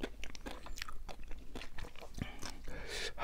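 Crunchy sea grapes seaweed are chewed close to the mic in a rapid run of wet, crisp bites and crunches, with no talking.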